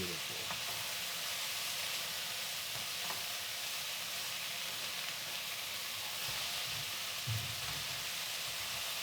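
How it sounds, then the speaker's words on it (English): Boerewors and onions fry together in a pan with a steady, broadband sizzle that holds for the whole stretch, with faint stirring scrapes now and then and no talk. "I'm stirring it too much"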